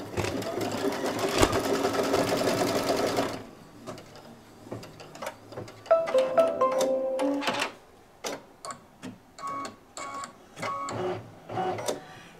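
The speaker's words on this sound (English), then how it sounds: "I'm going to go ahead and sew the placement line for the fabric." An embroidery sewing machine stitches a placement line on fabric for a Halloween spider web placemat block, running loud and steady for a few seconds, then continuing in shorter mechanical bursts and clatters with pauses between them.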